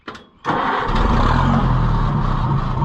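A heavy Oliver 550 tractor engine cranks and then catches, settling at once into a loud, steady rumbling idle close by.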